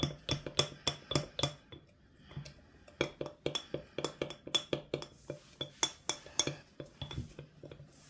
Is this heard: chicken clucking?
no